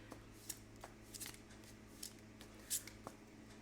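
Tarot cards being shuffled by hand, soft quiet riffles and crisp flicks in an irregular rhythm, close and faint against a steady background hum.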